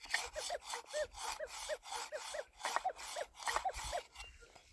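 Minelab gold detectors (Manticore, Equinox 800, SDC 2300) sweeping over a gold target give a series of repeated warbling, rising-and-falling tones in a steady swinging rhythm over scratchy ground rubbing, fairly close and moderately loud.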